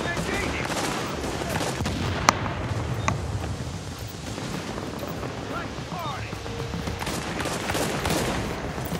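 Gunfire in The Division's Dark Zone aimed at players: scattered sharp shots and short bursts, some distant, within a dense wash of background game noise.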